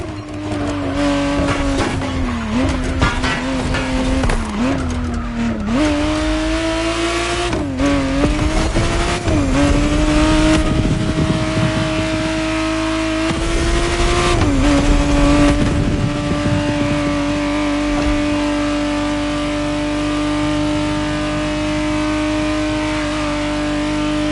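Engine of a 1991 Ferrari Testarossa in the racing game The Crew Motorfest, a loud sustained drone rising and falling through repeated gear changes and revs, with occasional tire squeal, close and continuous with no talk.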